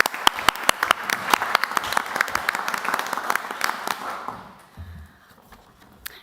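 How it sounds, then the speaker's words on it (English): A round of applause at a city council meeting in a community centre: a small group claps with sharp, distinct, close hand claps, tapering off after about four seconds into quiet room tone. "I'd like to give one round of applause to Caroline again, because that was a massiv"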